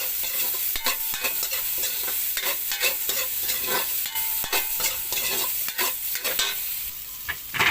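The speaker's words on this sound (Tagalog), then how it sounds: "Bawang, luya, sibuyas, sama na. Low fire muna. Konting mantika." Garlic, ginger and onion sautéing in a little oil over low heat, a steady sizzle broken by repeated scraping and stirring clatters, close and alone.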